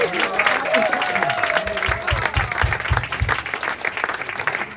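Audience applause at an evening event as a guest of honour is introduced, a steady wash of clapping from a crowd with rhythmic low thumps mixed in, voices murmuring underneath.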